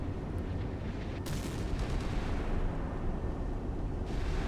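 Warships in the naval combat game Sea Power fire their defensive guns at incoming missiles, a dense continuous roar of rumbling gunfire and blasts with sharper bursts breaking through, loud and sustained without any voices.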